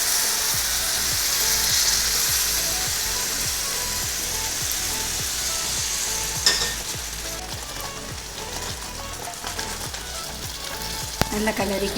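Ukkarai sweet mixture is stirred in a hot pan, sizzling and frying steadily throughout with a repeated scraping stir rhythm, close and loud, no talking.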